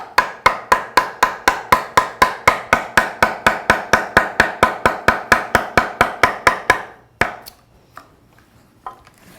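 Rapid, steady strikes of a chisel cutting wood in Hawaiian wood carving, a sliding cut with the bevelled edge, about thirty sharp close knocks in even rhythm, then a few scattered taps after a pause.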